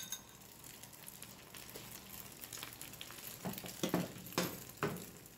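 An egg frying in hot oil while an omelette is made, a faint steady sizzle with soft crackles and a few light scraping clicks from stirring.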